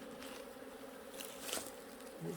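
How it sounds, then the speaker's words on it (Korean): Native Korean honeybees swarm around a hive during an artificial colony split, making a steady, dense buzzing hum throughout with a few slightly louder passes near the microphone. "벌이 아주 많습니다"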